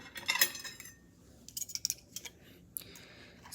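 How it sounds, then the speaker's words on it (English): A knife spreads butter across pancakes with soft, scraping clicks of metal on a plate, one short cluster and then a few lighter taps, close and quiet. "Spread my butter a little bit."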